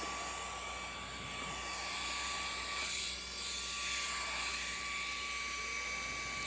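A Eufy 3-in-1 stick vacuum runs in handheld mode with a steady, high-pitched motor whine and airy rush, its tone shifting slightly over several seconds, close and alone without voices.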